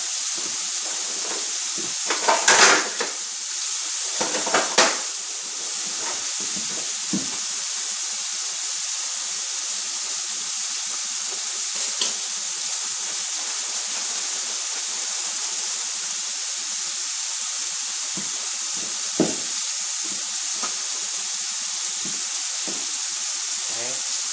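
Seasoned chicken steams and sizzles in a pan on fairly high heat, giving a steady, close hiss throughout with a few clattering bumps near the start.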